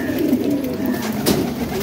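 Champion racing pigeons in a loft gallery cooing, a continuous run of low, throaty coos close by with no talk.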